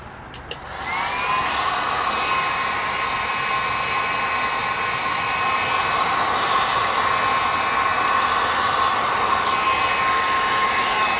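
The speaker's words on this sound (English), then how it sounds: "Now I'm going to hit it with the heat gun just so I can sort of bend my edge and get it to adhere on the inside" A heat gun blowing on the trunk trim edge of a Dodge Charger, a loud steady whooshing whine that starts after a short click and continues unbroken.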